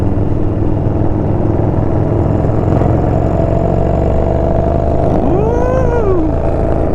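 Yamaha Bolt motorcycles ride through a canyon near Azusa, engines droning loud and steady at close range, then one bike revs up with a rising, sweeping pitch near the end.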